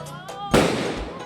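A single loud firecracker burst at an Eid celebration, a sharp broadband crack in the middle followed by a crackling, decaying tail, with faint background murmur before it.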